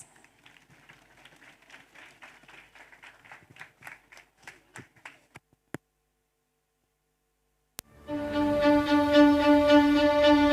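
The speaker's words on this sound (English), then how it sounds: "Let's welcome them with a big round of applause." Audience at a school annual day applauds the students of classes 6 and 7, with light, sparse clapping that fades to silence before music starts loudly.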